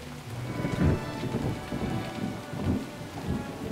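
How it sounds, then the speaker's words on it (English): Heavy rain pours steadily over a capital city while thunder rumbles deep and low, rolling in several swells through the downpour, with no voices present. "It's raining so heavily in the capital."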